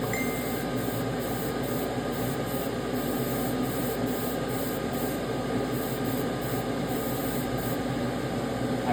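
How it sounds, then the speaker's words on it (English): Dirt-brown paint sprays from a can onto a model's track and shoulders, a close, continuous hiss with brief pulsing bursts. "We're just dusting this dirt track brown over the top of it and over the shoulders."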